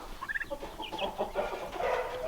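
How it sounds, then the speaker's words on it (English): Turkey poults making a busy run of soft clucks and peeping chirps, close by and fairly steady, with no talking. "Look at my little turks."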